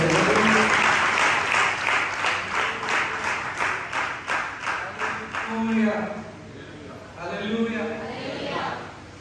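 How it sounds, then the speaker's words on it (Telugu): A church congregation claps loudly and steadily together at a worship meeting, the dense applause slowly thinning into a rhythmic beat while voices call out and speak over it. "మన తండ్రి గట్టిగా చప్పట్లు కొడదాం"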